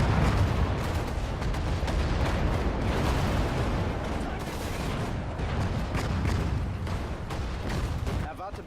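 Soviet tanks fight in the Sudden Strike 4 war game, set in a Kursk counter-attack, with a dense, continuous barrage of heavy gunfire and explosions, loud and unbroken until it eases near the end, while a voice talks over it.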